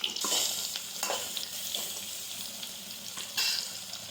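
Onion and curry leaves sizzle and fry in hot oil in a pan, a steady crackling hiss with a few sharper bursts as the ingredients are stirred, no one speaking.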